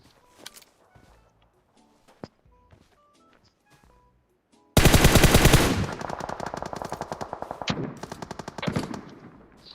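Automatic gunfire in the PUBG Mobile game, beginning abruptly midway as a loud sustained burst and continuing in rapid repeated shots, after a quieter stretch of faint clicks and scattered game sounds.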